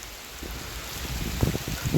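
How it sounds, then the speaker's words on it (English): Light to moderate rain falling on a wooded hiking trail in a state park, a steady soft patter and hiss with scattered louder drops close by. "you can probably hear it raining right now"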